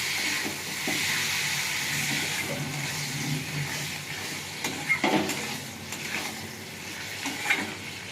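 Water poured into a hot pan of rui fish curry with mango hisses and sizzles steadily up close, settling into a bubbling fry with a few clinks of utensil or lid.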